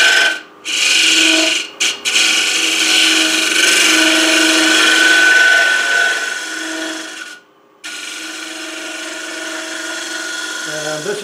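A carbide scraper blade rasps steadily against a hollow wooden vessel spinning on a lathe, loud and close, with brief pauses where the cut stops and a low motor hum carrying on beneath.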